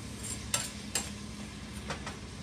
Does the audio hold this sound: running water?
no